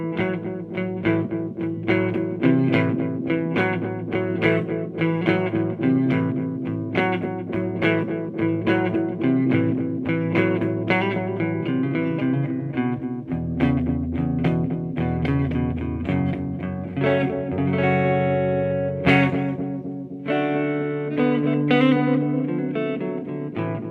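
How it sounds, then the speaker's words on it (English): An electric guitar, a Jeff Beck Strat, played through a Dan Echo pedal giving a long, dark, tape-style echo like an Echoplex: melodic picked phrases repeat behind each note, steady and moderately loud for the whole stretch, with no speech. "it is a dark echo, which is nice because it sounds a little bit more like the Echoplex"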